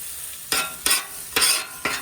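Eggs cooking on a Blackstone griddle, a steady close sizzle broken by four sharp spatula scrapes and stirs at roughly even intervals, with no talk.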